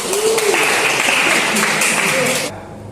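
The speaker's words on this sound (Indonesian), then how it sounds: "Berarti beri tepuk tangan dulu yang ini." Classroom applause rises after a teacher's prompt during a lesson, a dense, steady patter of many hands lasting a couple of seconds before cutting off sharply, with a voice speaking over it.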